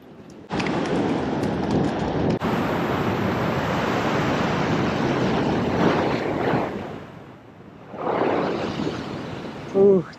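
Ocean surf rushes in with the rising tide on a Sydney shoreline, a loud sustained wash of breaking water with wind buffeting the microphone, easing off before a second surge rolls up near the end.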